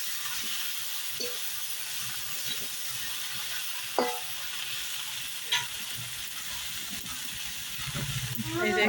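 Shredded cabbage sizzles in hot oil in a pan, a steady hiss broken by a few sharp scrapes and clacks of stirring, with louder bubbling and crackle rising near the end.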